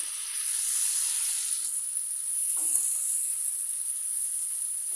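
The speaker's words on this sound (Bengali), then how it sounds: "কিছু সময় ভেজে নিব টমেটোর সাথে" Diced tomatoes sizzle with chicken and turmeric in a frying pan, a steady close hiss that runs throughout with a brief stir partway, no voices.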